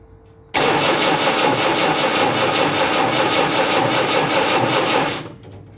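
A Land Rover Series 3 engine bursts into life after a quiet moment and runs loud and close in a rough, steady idle for several seconds before cutting out and winding down.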